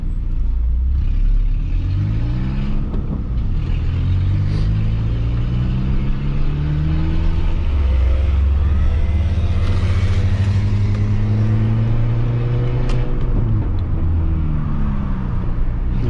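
A Peugeot 206 car accelerating through a park, its engine a loud, steady rumble with rising and falling rev sweeps as it speeds up and shifts, close and continuous with no talk.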